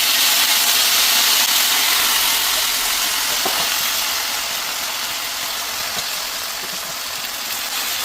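Tender gongura leaves wilting in hot oil with a steady, loud sizzling hiss that fades slightly over time, broken by a few faint clicks and pops.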